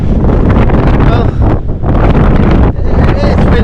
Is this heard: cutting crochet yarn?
no